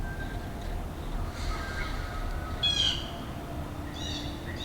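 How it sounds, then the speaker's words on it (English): Faint bird calls chirp intermittently over a steady rumbling outdoor background, a few short whistled phrases at a distance. "Birdsong is commonly heard in spring."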